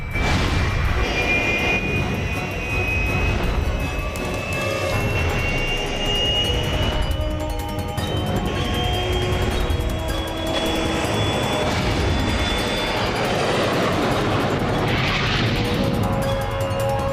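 A jet airplane engine roars in an action film, a loud sustained whine and rumble with a slowly rising high tone, steady throughout with rattling layers and no talk.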